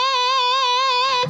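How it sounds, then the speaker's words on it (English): A single sustained electric guitar note, bent and left above pitch, rings close and clear with a slight wavering vibrato, then cuts off abruptly. "they take the string and they bend it, but they don't return to pitch."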